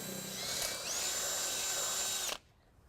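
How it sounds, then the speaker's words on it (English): A power drill whirs loudly and steadily, rising slightly in pitch as it bores a pilot hole into the frame of a 2014 Ford Focus for a trailer hitch, then stops abruptly, leaving quiet. "We're going to start out by drilling our pilot hole."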